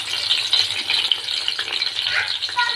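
Stuffed masala tinda frying in hot oil, a steady bright crackling sizzle that stays loud and continuous throughout with small popping bursts.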